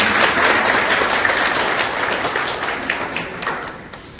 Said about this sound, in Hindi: मैं चाहूंगा कि आप लोग तालियों से इनका स्वागत करें।